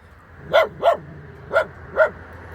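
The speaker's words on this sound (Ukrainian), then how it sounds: "А ти чого гавкаєш?" A dog barks four times in an irregular rhythm, with short, fairly close yelps over a quiet background.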